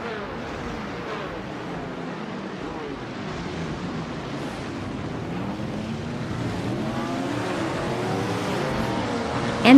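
A 1965 Lotus 40 race car on track, its engine a steady mid-distance drone that rises gradually in pitch and loudness as it runs, with a sudden loud burst right at the end.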